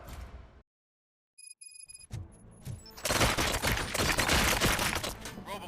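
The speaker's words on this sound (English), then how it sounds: "Gunshots? What's going on?" Gunfire in the video game RoboCop: Rogue City, a brief silence and a few electronic beeps followed by a dense, loud burst of rapid shots and impacts that keeps going to the end.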